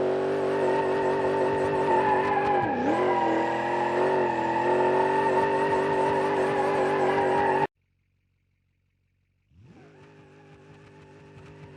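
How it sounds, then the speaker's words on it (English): A supercharged Cornet in BeamNG.drive roars loudly in a sustained burnout, tires squealing with rising and falling engine pitch, then cuts to near silence before the engine revs back up. "this car can only do one thing right, and that's burnouts"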